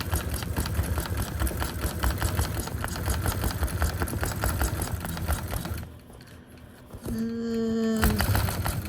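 A Gammill longarm quilting machine stitches steadily while basting fabric on an edge-to-edge quilt, a dense rapid mechanical chatter that drops briefly before a louder motor whine rises near the end.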